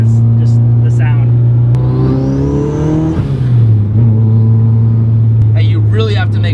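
A boosted 300HP Mazda Miata engine drones loudly and steadily on the freeway, its pitch swelling briefly as it revs before settling back to a constant hum, with people talking over it.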